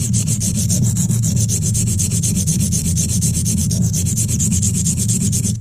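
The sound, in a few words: silicon carbide stone being worn while sharpening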